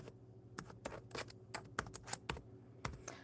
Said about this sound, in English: I hope my typing is correct when I hit enter, because I'm not paying attention to the typing.